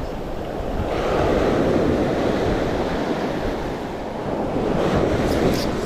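Ocean surf breaks and washes at a shore fishing spot, a broad rushing roar that swells and eases under gusty wind noise, with no talk.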